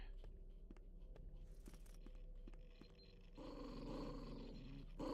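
Dogs growl low in the HROT video game, a steady rumbling snarl under game ambience and a droning hum, swelling louder in the last seconds.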